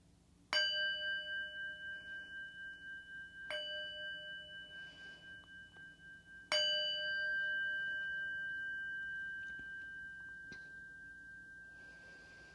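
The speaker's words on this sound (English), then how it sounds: "I'll ring a bell to begin and end our phrase practice." A meditation bell is struck three times, each clear ringing tone sustaining and slowly decaying, the last strike left to fade for several seconds, with no talking.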